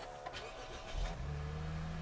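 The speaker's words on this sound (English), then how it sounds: "just tap the start and stop engine" A 2013 Lexus GS engine starts from the push button, with a brief cranking burst that settles into a steady, fairly quiet idle heard nearby, with no talking.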